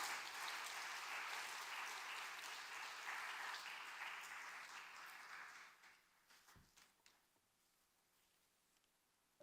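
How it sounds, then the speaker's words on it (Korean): A church audience applauds warmly to welcome a pastor's wife to speak, a dense steady clapping that fades out after about six seconds, leaving a few scattered claps in a quiet room. "뜨거운 박수로 우리 사모님 모시겠습니다"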